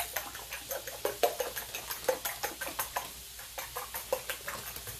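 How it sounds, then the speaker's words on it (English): Quick, rhythmic clicks of a whisk or fork beating eggs in a bowl, a steady close tapping pattern with no talking. "I'm just going to beat my eggs."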